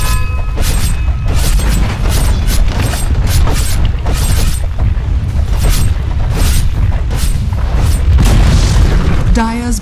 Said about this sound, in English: Bottom tower is under attack.